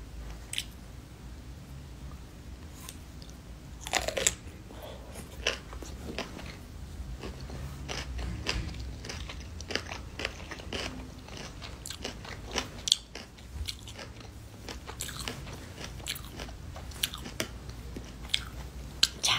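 Vegetables being chewed up close, a quiet stretch of irregular crisp crunches and wet squishy bites repeating throughout, with no talking.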